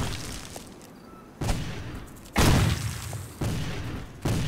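Grenade blasts in the Civil War: Secret Missions video game land as several separate booming hits about a second apart, each a loud thump with a short rumbling tail.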